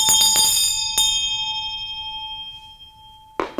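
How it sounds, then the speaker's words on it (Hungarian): A bright metallic bell rings with a clear sustained tone, struck a few times early and then left to ring out, followed by a sharp clank at the end. "Megzengeted, harang cseng."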